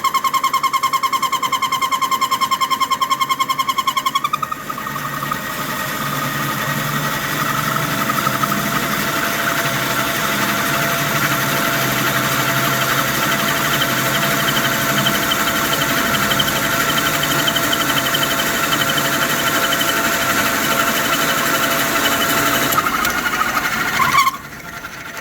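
A 7/8 inch, roughly 12 inch long drill bit bores into a dry agave stalk with a loud, steady motor whine and grinding buzz. A high tone shifts downward early as the bit bites in, and the drilling runs on continuously with no talk.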